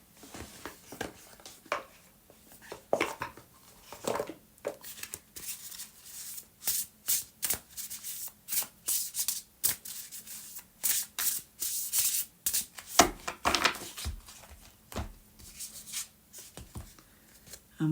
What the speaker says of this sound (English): I'm just going to take one more card for you. Gemini, I'm going to take it from the Shaman's Dream Oracle.